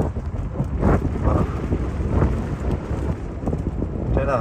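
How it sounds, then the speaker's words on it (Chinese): Strong wind gusting across open grassland where cattle are herded by motorcycle, a steady loud roar buffeting the microphone with rumbling low-end surges throughout. "这个风太大了，不行，咱赶紧走。"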